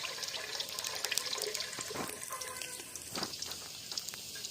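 Water is poured into tamarind paste in a village kitchen while making fish curry, a steady close splashing and trickling stream with a few louder gurgles, heard without talk.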